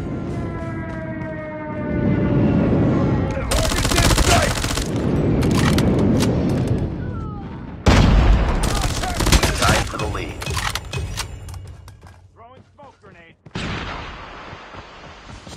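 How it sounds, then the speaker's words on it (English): An enemy airstrike hits in Call of Duty Mobile amid gunfire: heavy booming blasts and rattling automatic fire in dense bursts, loud and near, broken by short pauses, with game voice callouts in between. "Enemy airstrike incoming."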